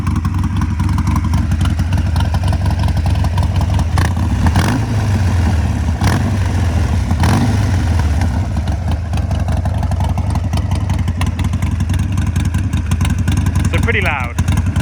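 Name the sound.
Harley Davidson 48 idling with Vance and Hines exhaust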